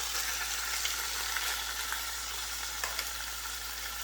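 Partly frozen food sears in a hot pan with a steady, dense sizzle and crackle, loud and close. Small pops are scattered throughout and nobody speaks.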